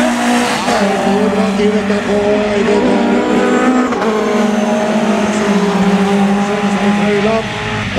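Rallycross race cars at Gardermoen, including a BMW, roar loudly and continuously with revving, shifting engines and squealing tires. An announcer's voice runs faintly underneath.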